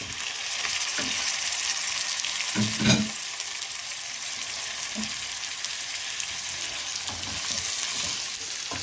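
Oxtail pieces frying with onions in a pan, a steady close sizzle with a few soft clinks and stirring scrapes, no talking.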